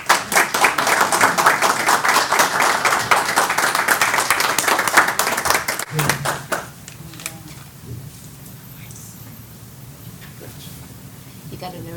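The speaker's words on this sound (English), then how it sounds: "Round of applause" Audience applause at a county commissioners meeting: loud, steady clapping from a room of people for about six seconds, then it fades out, leaving quiet room sound with a few faint voices.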